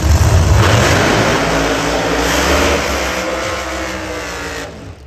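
Pro Mod drag racing Camaros at a qualifying session roar at full throttle, a loud, sustained engine blast that slowly fades as the cars pull away down the strip.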